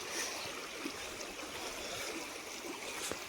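Water rushes and burbles continuously, a quiet, steady stream flow swollen after rain in Konkan, with small splashes and no talking.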